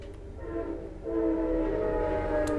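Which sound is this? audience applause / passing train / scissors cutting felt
passing train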